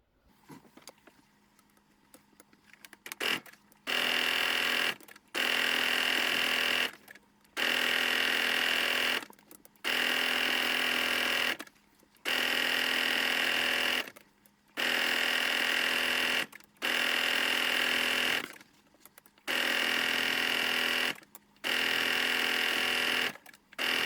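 Sewing machine stitching a steering wheel cover runs in repeated bursts of about two seconds each, fast steady motor whirr broken by short pauses, close and loud with no talking.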